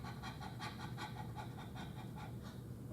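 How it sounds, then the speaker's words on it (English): A person does the breath of fire breathing exercise, a rapid run of about a dozen sharp, even pants, close but fairly quiet, with no speech. "Breath of fire. I'm going to demonstrate, and it's like panting like a dog."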